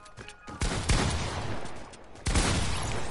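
Fortnite gunfire crackles in bursts, with a sharp volley near the start and another loud burst late, dense and close throughout with no voices.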